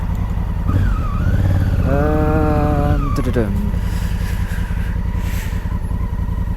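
A motorcycle riding along a road, its engine droning steadily and close with a brief rising rev in the middle, wind rush throughout and no clear talk.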